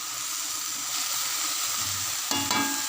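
Radish greens frying in a pan give a steady close sizzle, with a stirring scrape briefly louder near the end.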